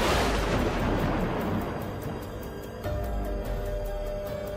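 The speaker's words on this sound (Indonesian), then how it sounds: "terdengarlah suara ledakan yang sangat keras yang memecah kesunyian malam itu" A loud explosion sound effect booms and rumbles, with a broad roar that decays over a few seconds before a second swell of rumbling follows.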